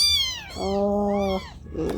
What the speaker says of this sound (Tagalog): Makulit na talaga itong mga pusa na to.